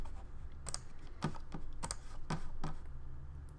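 Typing on a computer keyboard while entering a class name for a web page element: a steady run of crisp, close keystrokes in an irregular rhythm, alone with no talk.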